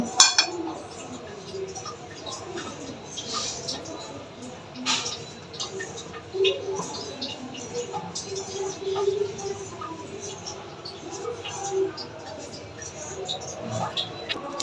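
Flour being mixed in a bowl with a utensil for Bengali poa pitha batter, a steady close scraping and clinking against the bowl throughout with a few light knocks.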